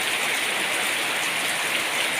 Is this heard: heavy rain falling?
yes